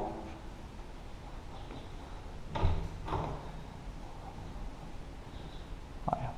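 A newly installed door in a drywall wall opening, worked by its handle, gives a single clear latch clunk and a softer knock against quiet room background.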